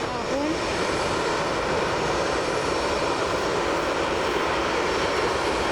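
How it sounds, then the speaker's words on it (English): An airliner rolling out after landing on runway 23 right at Manchester Airport, a loud, continuous broadband engine roar without a break, filling the whole stretch. "That's landed on 23 right. Be the last aircraft of the day for part 1."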